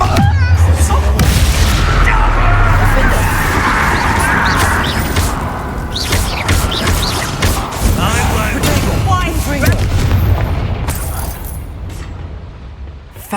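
A Confringo spell explosion in the Hogwarts Legacy video game: a heavy boom and crashing burst at the start, fading into rumbling game ambience while voices talk through the rest.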